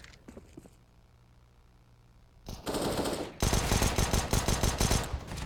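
Counter-Strike: Global Offensive gunfire: a few sharp shots at first, a quiet stretch, then dense rapid bursts that grow louder and run to the end.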